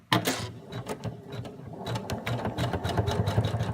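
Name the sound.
sewing machine stitching placement line on fabric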